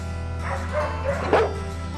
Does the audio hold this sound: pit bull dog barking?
yes